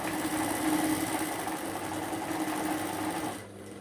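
A sewing machine stitching around a shirt pocket runs in a steady, fast mechanical whir with rapid needle chatter, close and continuous before cutting off abruptly near the end.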